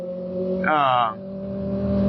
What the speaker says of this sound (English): That's a nice 350Z.